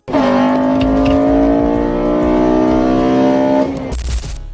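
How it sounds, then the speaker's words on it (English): A naturally aspirated 8th-generation (2006-2011) Honda Civic Si engine revs hard and climbs steadily as VTEC engages, its stock intake resonator giving a loud, sustained howl, then it drops off abruptly near the end. "by a clever stock intake resonator that makes it sound like a mini Ferrari V8"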